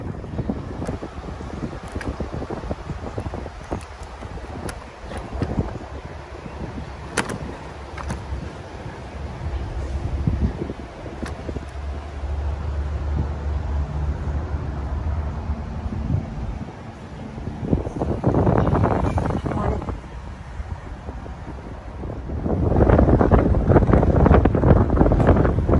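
Strong headwind buffets the microphone while cycling a paved rail trail near Hammond, Illinois, a steady roaring rumble that swells into louder gusts toward the end, with no talking.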